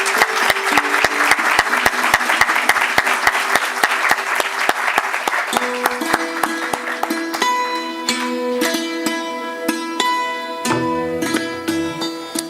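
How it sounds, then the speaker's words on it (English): Audience applause at the inaugural session of an environmental microbiology conference, with steady hand clapping at first, then music with sustained tones joining in over the clapping. "Please round of applause."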